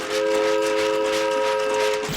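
A train sound effect: a loud, steady train horn chord sounds close and continuous for about two seconds, with no talk.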